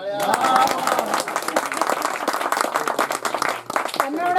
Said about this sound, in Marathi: नको औषध, नको गोळ्या, अरे असत असत वाजवा टाळ्या